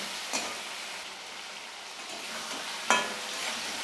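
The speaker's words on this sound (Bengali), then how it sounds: "এবার আমি আলু বেগুন টমেটোটা লাল লাল করে একটু ভেজে নেব" Potato, eggplant and tomato pieces fry in a pan, giving a faint, steady sizzle with two brief stirring scrapes.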